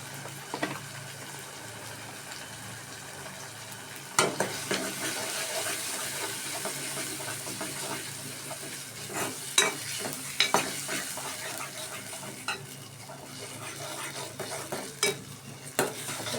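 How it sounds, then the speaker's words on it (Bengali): Pigeon meat with onion paste fries and is stirred in a pan. A continuous hiss runs under scattered spoon scrapes and clinks against the pot, and the strokes grow busier toward the end. "এগুলো আমি এখন ভালোভাবে 2 মিনিট কষিয়ে নিব।"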